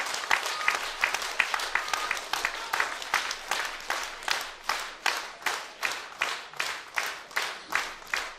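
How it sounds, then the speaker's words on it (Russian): A concert audience welcomes a guest bayan (button accordion) virtuoso with dense, lively applause that settles into loud, rhythmic clapping in unison, with no voices over it. "Аплодисменты, друзья, аплодисменты."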